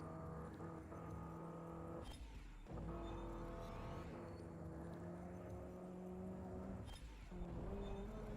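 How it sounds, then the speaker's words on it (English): A damaged car engine droning in Forza Motorsport 7, a steady rough mechanical hum with shifting pitch and a couple of short revving bursts, heard on its own without talk. "Definitely damaged engine."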